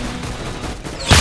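Gunfire in the Roblox shooter Arsenal: a steady dense rumble of game audio, then a single loud, close shot burst near the end.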